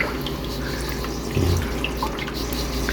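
Water drips and trickles into a plastic drum housing catfish, a faint steady wash of running water with a slightly louder splash near the middle, no voices.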